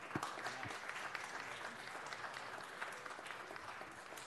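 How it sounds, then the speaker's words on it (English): Applause fills a city council chamber in Los Angeles for two honored interns, a continuous wash of many hands clapping at a fairly distant, soft level without pause. "big round of applause"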